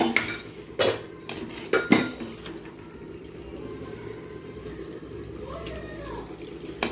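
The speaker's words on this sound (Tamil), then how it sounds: "போட்டு நல்லா கிளறி விட்டுக்கோங்க." Goat liver pepper fry stirred in a pan, a few sharp metal spoon clanks against the pan early on, then quieter scraping and faint background noise.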